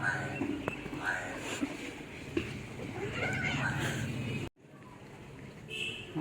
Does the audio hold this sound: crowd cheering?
no